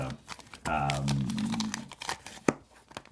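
Close, loud crinkling and rustling of a plastic bag, with a tonal squeak early on and a sharp crackle near the end.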